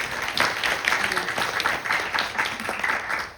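Steady applause from an audience at a Navratri night event, a dense wash of clapping that holds at an even level throughout.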